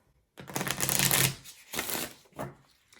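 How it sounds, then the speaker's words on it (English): Cards riffle-shuffled in two quick rattling bursts and a shorter third one, crisp and close. "you're going to take the 2 different stacks and you're going to shuffle them together"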